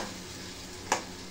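Potatoes frying in a pan on a home stove, a steady low sizzle throughout with one brief sharper crackle near the end, no talking.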